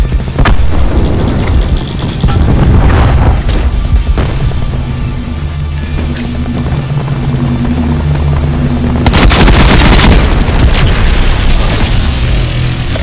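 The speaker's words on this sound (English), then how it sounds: "Cluster grenade going out." Cluster grenade blasts in Call of Duty: Black Ops 4 deliver heavy, booming explosions mixed with rattling gunfire, loud and dense throughout, with a fresh burst of blasts near the end.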